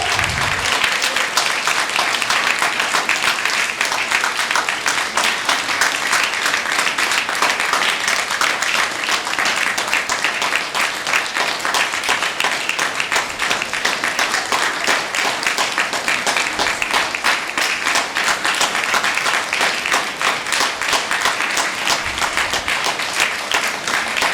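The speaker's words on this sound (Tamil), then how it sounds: "உங்களோட கைத்தட்டங்கள் மட்டுமே அவரை உற்சாகப்படுத்தும்" An audience at a stage event claps for a world-record attempt, producing loud, dense, continuous applause that holds steady for over twenty seconds.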